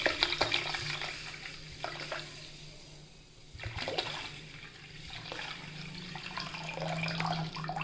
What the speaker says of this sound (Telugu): 1 లీటర్ వాటర్ యాడ్ చేసుకోండి దీంట్లోకి.